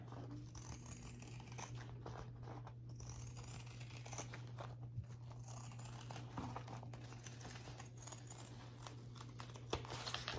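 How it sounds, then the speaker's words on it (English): Pinking shears trim fabric seam allowance on a crossbody bag, giving quiet, close crisp snips and crinkly cutting sounds in an irregular run over a steady low hum. "And now I'm going to trim that down with some pinking shears."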